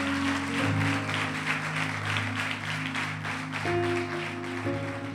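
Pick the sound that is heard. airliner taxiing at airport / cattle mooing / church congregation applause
church congregation applause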